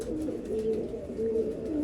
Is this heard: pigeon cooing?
yes